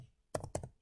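Two quick, soft key taps on a computer keyboard, close by and faint, after a brief quiet moment.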